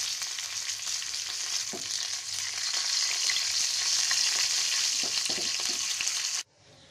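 Curry leaves, whole red chillies and cumin sizzle and crackle loudly in hot oil for a Gujarati toor dal tempering, a steady frying hiss with scattered pops and stirring that cuts off abruptly near the end.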